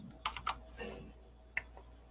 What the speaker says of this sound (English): For the offset, I'm going to type in 25.